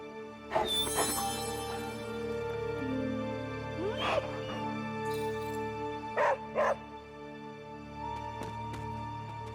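A dog barks in Marvel's Midnight Suns, a few sharp barks and yips over steady game ambience and music, fairly close and moderately loud.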